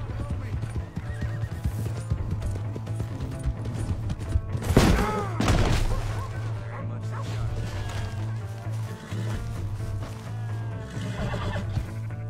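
A horse in the Red Dead Redemption 2 video game whinnies loudly and its hooves clop along, with a dog barking nearby and game voices talking over a steady musical background.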